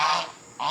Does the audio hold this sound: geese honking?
yes